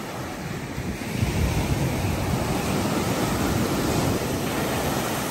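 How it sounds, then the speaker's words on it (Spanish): Moderate ocean waves at Playa Coral, a quiet private beach in Puerto Escondido, Oaxaca, Mexico, give a steady broadband wash of surf that swells slightly after the first second and holds constant, with light wind noise and no voices. "El oleaje es moderado."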